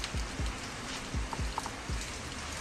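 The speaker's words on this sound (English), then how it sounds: "it's still raining down here and it's super demotivating" Steady rain hisses as a dense, even wash, with a few heavier low drops or drips landing every half second or so; no one speaks.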